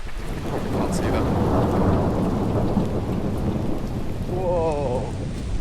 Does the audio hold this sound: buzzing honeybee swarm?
no